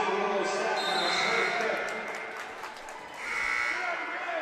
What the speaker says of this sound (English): The crowd's back into it.